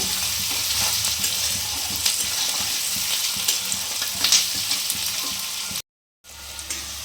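Chicken pieces for restaurant-style chilli chicken fry in a pan with a constant close, bright sizzle and occasional stirring scrapes, broken by a brief dropout of silence near the end before the sizzle resumes.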